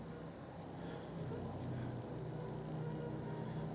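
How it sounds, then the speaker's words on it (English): A mosquito near the microphone makes a thin, steady, high-pitched whine that holds without a break through the whole stretch, over a faint low background. "Mosquito here trying to interfere with our video"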